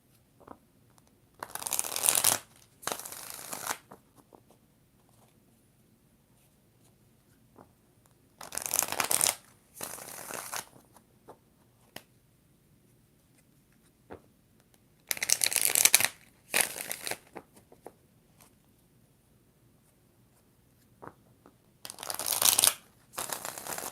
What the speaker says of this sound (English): 4 shuffles for Denise Deer.